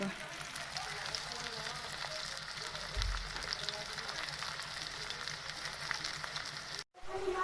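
Onion and raw peanuts fry in a pan with a faint, steady sizzle and crackle, heard from some distance under low background noise, with a brief dropout near the end.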